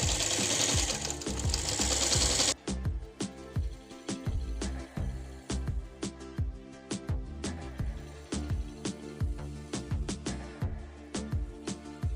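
A sewing machine stitches a fabric dining table cover made from old cloth, running in quick, steady rhythmic bursts of needle strokes, loud and close, alone with no talking, after a short burst of broad noise at the start.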